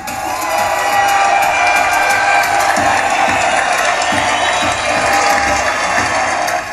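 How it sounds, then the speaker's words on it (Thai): Steady, dense applause and cheering from an audience at a boyband competition show, filling the whole stretch at a constant loud level. "ขอเสียงปรบมือให้กับความพยายามและความตั้งใจของน้องๆค่ะ"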